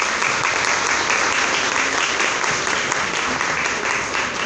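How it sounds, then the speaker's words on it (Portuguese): Steady applause from a crowd fills the room at a Lions Club officer installation ceremony, dense and continuous clapping at an even level. "Palmas ao presidente."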